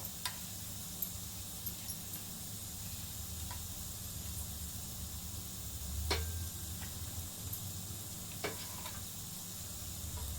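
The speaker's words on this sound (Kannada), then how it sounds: "ಚಟಪಟ ಅಂತ ಹುರಿತಾ ಇದೆ ಜೀರಿಗೆ." Cumin seeds and garlic sizzle steadily in a hot pan, a close, even hiss with faint crackles and an occasional soft clink, no talking.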